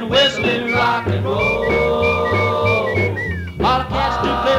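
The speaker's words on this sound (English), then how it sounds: "He's whistling, whistling," Whistled notes sit on top of a rock and roll backing with sustained chords and a driving beat, a few short high phrases across a few seconds of music.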